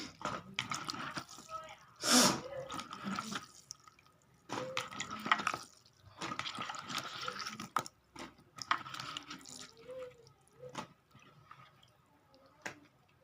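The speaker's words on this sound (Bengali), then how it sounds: "এবার আমি ধুয়ে নিচ্ছি খুব ভালো করে" Chopped taro greens are washed by hand in a bowl of water. Close, fairly quiet splashing, dripping and squishing comes in uneven bursts with short pauses between them.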